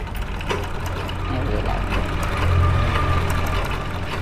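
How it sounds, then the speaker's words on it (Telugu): A sewing machine runs continuously while stitching piping onto a shirt collar, a steady close mechanical whir with a low droning hum and light rattling. "థ్రెడ్ మధ్యలోకి వెళ్ళిపోతూ కుట్టుకుంటూ రావాలి"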